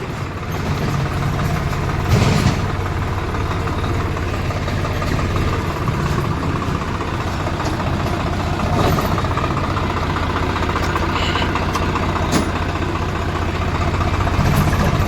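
A tractor engine runs at a steady idle, a continuous low rumble with no voices.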